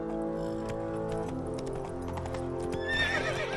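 The horse Roach galloping in The Witcher 3, with rhythmic hoof clip-clops, a whinny near the end, and a tonal game music bed underneath.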